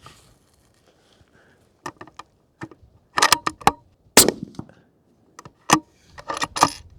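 A 6.5 PRC rifle bolt being worked during load testing, a series of sharp metallic clicks and clacks in short irregular clusters, close and crisp against quiet.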